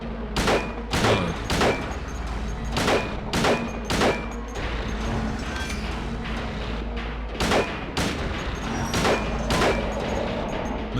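Gunfire from the Silent Hill 2 video game: a rapid series of loud, sharp shots in uneven bursts, several close together and then spaced apart, over a low steady background hum.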